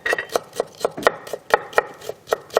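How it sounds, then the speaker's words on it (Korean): A kitchen knife slices carrots into thin julienne strips on a cutting board, making about a dozen crisp, evenly spaced chops close up, with no talking. "그다음에 당근 같은 경우도 가늘게 채 썰어주세요"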